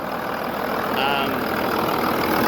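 A 2001 Dodge Ram 2500 with a 5.9-liter Cummins diesel idles close by with a steady, even rumble and faint knock, holding constant for a few seconds.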